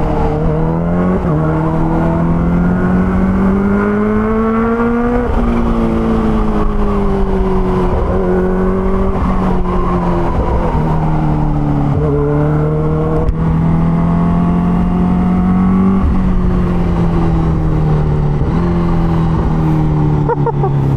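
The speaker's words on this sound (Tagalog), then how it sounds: "ito na siguro ang pinakabaliw na motor na nasubukan ko sa buong buhay ko." A Kawasaki H2 Carbon motorcycle engine is revved hard while riding, its loud, rising and falling pitch climbing through the gears in repeated sweeps, close and continuous.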